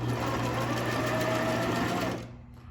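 A sewing machine stitches along the fold of a skirt hem, running at a steady even buzz from close by and then slowing toward a stop at the end.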